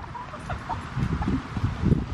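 Backyard chickens clucking softly over a low, rumbling outdoor background with wind-like noise, brief murmurs rising and falling without any speech.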